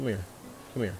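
A bee buzzes briefly in Animal Crossing: New Horizons on the Nintendo Switch, a faint drone between two short bursts of someone speaking close up.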